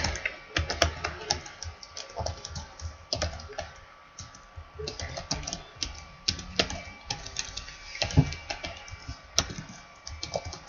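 Rapid clicking keystrokes on a computer keyboard, moderately close, running steadily with irregular bursts and pauses, while occasional faint voices murmur in the background.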